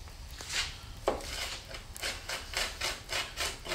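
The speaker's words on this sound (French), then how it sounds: "on va hacher l'endive finement." Endive is chopped finely with a knife on a wooden board, a quiet run of quick, rhythmic scraping cuts in a home kitchen, with no voices.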